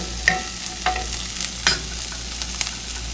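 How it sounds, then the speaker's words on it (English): Onions cook in a pan on a home stove with a steady low frying hiss, marked by a few sharp clicks and scrapes of stirring spaced through the short stretch. "Won't take long for the onion to cook."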